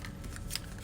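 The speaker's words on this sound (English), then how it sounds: "take the scrap of the rich raspberry and cut out a 1 3/8 scallop circle." A scrap of rich raspberry paper cut into a 1 3/8 inch scallop circle, a short close snip of scissors, quiet and brief.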